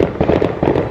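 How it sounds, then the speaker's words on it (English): Neighborhood fireworks go off at dusk in a quick burst of several muffled pops and crackles, heard at a distance with no talking. "I promise those are fireworks, okay?"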